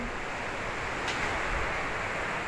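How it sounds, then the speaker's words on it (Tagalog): Steady broadband rushing noise of strong wind buffeting outdoors, continuous and fairly loud throughout, with no voices. "lakas ng hangin."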